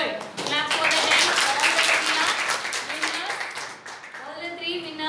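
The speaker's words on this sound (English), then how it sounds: "Clap for the 10." A classroom group applauds the winning teams in a spoken-English activity, a loud burst of clapping that swells quickly and then thins out, with children's voices mixed in under the applause.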